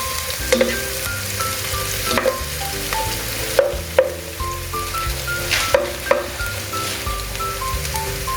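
Garlic and onion sizzle steadily in a hot pan, with a continuous frying hiss broken by repeated clinks and scrapes of a spatula stirring the pan, close and moderately loud.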